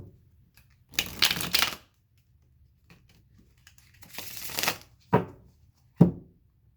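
A deck of tarot cards is shuffled close by in two riffling bursts, followed by a few sharp taps and snaps as the cards are squared and cut, with quiet pauses between.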